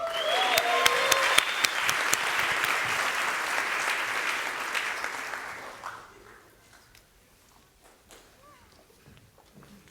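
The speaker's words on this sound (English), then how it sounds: "A big hand of applause to the graduating students." A hall audience gives sustained clapping at a graduation ceremony, loud for several seconds and then fading out to near quiet with a few scattered claps.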